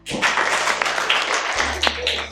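Audience applause at a school spelling bee competition, a steady patter of many hands clapping in a classroom-like room, moderately loud and continuing throughout with a low hum underneath.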